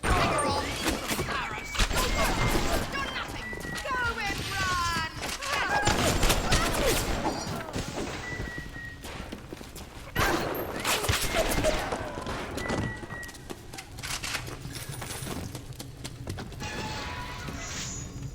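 Shotgun blasts and gunfire in the Bioshock video game, loud sharp bursts recurring through a busy, cluttered mix of game sounds, with speech heard in places.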